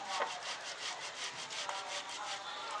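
Boiled potatoes are rubbed against a grater in steady, rhythmic rasping strokes, soft and close, with no talking.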